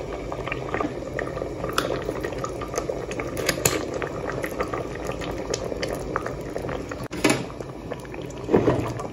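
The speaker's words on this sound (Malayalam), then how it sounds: "തിളച്ച് വരുന്നുണ്ട് ഇപ്പൊ നന്നായിട്ട് നമ്മുടെ അരപ്പൊക്കെ ഇങ്ങനെ തിളച്ച് വരുന്നുണ്ട്" A pot of fish curry gravy boiling on the stove, with a steady dense bubbling simmer running throughout, a few louder pops and splutters near the end, and no talking.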